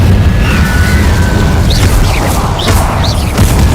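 Incendio fire spell cast in Hogwarts Legacy, a loud, sustained booming blast of flame with rumbling low end and a few brief whistling flares rising through it.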